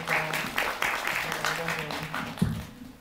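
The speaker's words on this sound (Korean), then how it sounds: "박수 부탁드립니다" Audience clapping at a film talk event after a screening: continuous, fairly soft applause with a voice speaking over it.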